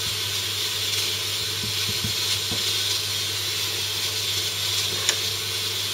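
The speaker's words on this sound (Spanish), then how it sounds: "Dejaremos que se tueste un poco y se refría un poco en el aceite" Garlic, fried bread and almonds sizzle gently in oil in a pan, a steady soft hiss with faint crackles and an occasional small pop, continuous and close, with no talk.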